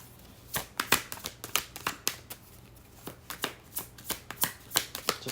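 Tarot cards shuffled by hand, a run of crisp, papery riffles and snaps in an uneven rhythm, close and clear with no talking.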